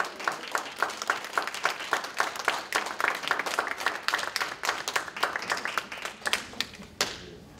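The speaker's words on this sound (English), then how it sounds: "can we give Mr. Tyree Guyton and Janine a round of applause?" An audience at an arts leadership academy event gives a round of applause, a dense run of many hands clapping at close range for several seconds before tapering off.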